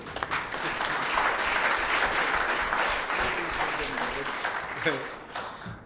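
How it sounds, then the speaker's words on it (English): Audience applause for an official from Gauteng Province economic development, environment and tourism at the IAGR 2017 gambling regulators' event, sustained dense clapping at steady loudness throughout, fading slightly at the end. "A good round of applause for him."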